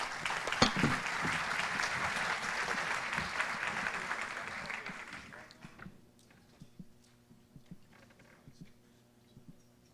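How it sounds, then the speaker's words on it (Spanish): Audience applause for a minister at a closing session rings out as a full, moderately loud round of clapping that fades away after about five seconds, leaving quiet room noise with a few faint taps. "Un aplauso para el ministro, por favor."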